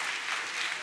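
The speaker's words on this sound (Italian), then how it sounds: "A tutti loro un grosso e forte applauso" A brief burst of audience applause at an Italian regional memorial day ceremony, an even, fairly faint wash of many hands clapping.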